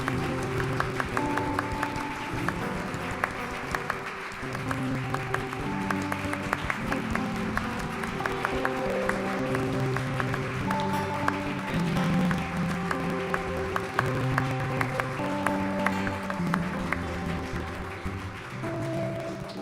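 Sustained congregational applause closing an evening church worship service, a dense steady roar of clapping hands lasting throughout, with music or voices faintly underneath.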